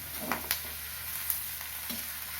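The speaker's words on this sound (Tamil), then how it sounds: "உப்பும் மஞ்சத்தூளும் போட்டு வதக்கினா கொஞ்சம் சீக்கிரம் வதங்கும்" Bitter gourd pieces sauté in a pan with salt and turmeric, a faint steady sizzle broken by a few light scraping stirs, quiet and close with no voices.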